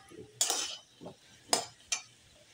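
Potatoes frying with tomato and oil are stirred in a pan: a few faint, scattered clinks and scrapes of a spatula against metal, with quiet gaps between strokes.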